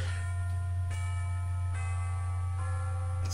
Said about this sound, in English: School bell ruins everything.